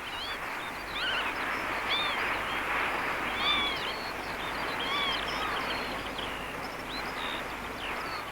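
Several lapwings give alarm calls at once, with harsh, wheezy, rising cries overlapping continuously at a moderate distance over a steady outdoor hiss, in a water meadow.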